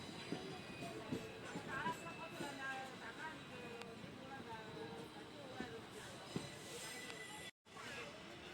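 A passenger train from Rameswaram to Madurai rumbles along with a low, steady rattle of wheels and carriage noise, faint and continuous, while someone talks over it.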